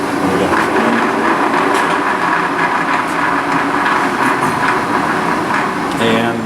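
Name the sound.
LeBlond sliding bed gap lathe running in reverse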